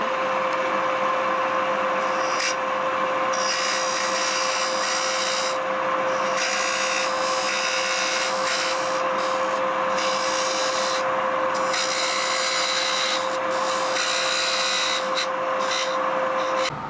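A flat nose scraper cuts wood on a lathe for a lidded box, giving a continuous dry scraping hiss over the motor's steady hum, broken by short pauses as the tool lifts off the spinning work.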